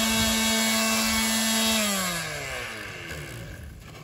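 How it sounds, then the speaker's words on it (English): A loud power sander whines at a steady pitch sanding 3D-printed model van body panels, then its motor spins down, the tone sliding lower and fading. "that is sanding these body panels smooth"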